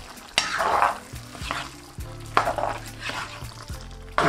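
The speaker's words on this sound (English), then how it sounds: "Now give this a really good mix." Pasta stirred into a Cajun chicken sauce in a hot pan, with sizzling, wet scraping strokes and light utensil knocks against the pan in an irregular mixing rhythm, close and alone.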